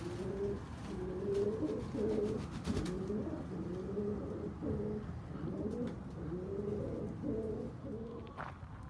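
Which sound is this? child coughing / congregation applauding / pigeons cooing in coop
pigeons cooing in coop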